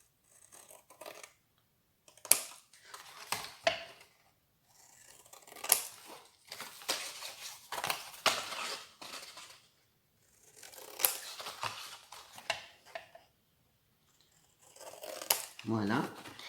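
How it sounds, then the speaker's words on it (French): Scissors snip through paper, cutting corners for a mini album, in short clustered bursts with brief pauses between, close up, while a voice speaks at times. "Vous coupez les coins comme ça."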